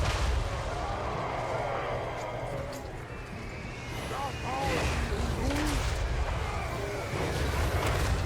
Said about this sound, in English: Man, it seems like a constant barrage of missile fire.